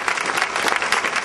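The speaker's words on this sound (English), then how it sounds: "Would you guys please just give my team a round of applause?" A crowd at a state Democratic Party event gives a congressional candidate's campaign team a brief, dense burst of clapping, loud and close throughout.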